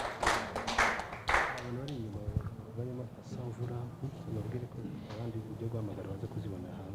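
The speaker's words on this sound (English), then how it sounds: "Oh, a big round of applause." A round of applause at a forensic summer school gathering, a short burst of clapping from a small group at the start that quickly gives way to people talking.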